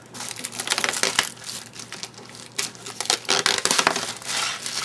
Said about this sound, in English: You just need to peel this backing off.